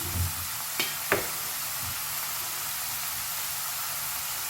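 Soya chunk masala with chilli powder, kasuri methi and salt sizzles in a pan, a steady broadband frying hiss with a couple of sharp scrapes from stirring near the start.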